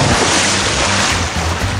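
A loud, broad rush of water sounds as someone splashes into a new residential swimming pool, dense and continuous throughout with no talk.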